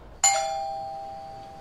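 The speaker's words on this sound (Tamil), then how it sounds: "காலையில் 5 மணிக்கு காலிங் பெல் அடிச்சிச்சு" A single electronic doorbell chime rings out once, clear and close, its tone lingering and slowly fading in a quiet room.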